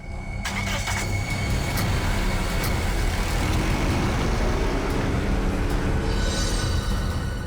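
A car driving off at a steady, loud rumble with continuous broadband road and engine noise throughout, no clear voices over it.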